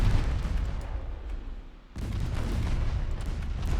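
Torpedoes launched from a warship in the Ultimate Admiral Dreadnoughts naval game, a dense rumbling boom and roar that dips briefly midway, then surges back loud and sustained, with no talking.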